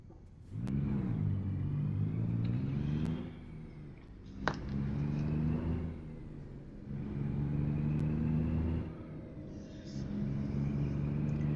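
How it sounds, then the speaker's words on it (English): A truck engine in American Truck Simulator revs up through repeated gear pulls, with a rising, throaty rumble in several surges separated by brief dips between shifts, steady and fairly close. "This truck really does have a good bit of power. Mostly acceleration."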